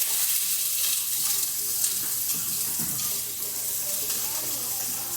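Leeks hit a hot, smoking pan and sizzle in a steady, loud, hissing crackle that carries on without a break.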